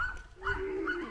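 Dogs bark at a family's parents' house: a short burst of tonal barks and yips, fairly close and moderately loud, with no talking.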